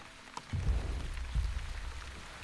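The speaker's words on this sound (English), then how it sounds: "Okay, we've got rain, which is good" Rain falls in a video game, a soft, faint patter with a few low thudding drops, steady and without voices.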